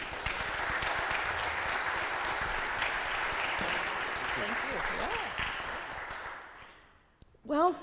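A church audience gives sustained applause for a pastor, a dense steady clatter that fades out near the end, followed by a voice beginning to speak.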